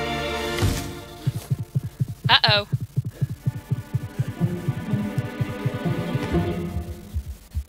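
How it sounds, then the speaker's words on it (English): A heartbeat effect from the animated short In A Heartbeat, a rapid run of deep thumping pulses over humming music, with a brief voice exclaiming partway through. "that was cool with the heartbeat too"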